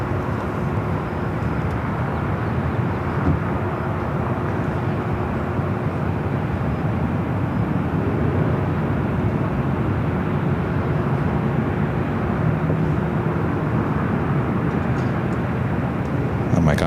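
A Korean Air Boeing 747-8i airliner in new livery at LAX gives a steady, broad engine roar that holds through the whole stretch, moderately loud and constant, with voices talking intermittently over it.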